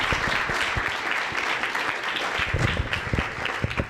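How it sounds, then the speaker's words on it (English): An audience at a university debate on water rights claps in a steady burst of applause, dense and moderately loud, with individual claps popping out near the end. "we want to give her a big round of applause"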